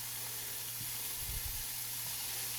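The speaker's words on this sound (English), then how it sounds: "We're going to sizzle up this ham a little bit" Ham sizzles in a little olive oil in a pan, with mushrooms, while an omelette is made. A steady, fairly quiet hiss of frying runs throughout with a low hum beneath and a few soft clunks.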